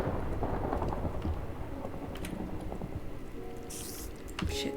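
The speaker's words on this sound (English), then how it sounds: "there's this really fucking loud thunder and lightning" Rain and thunder in the video game Minecraft, a dense steady patter of rainfall with low rumbling underneath and a few brighter crackles, moderately quiet and continuous.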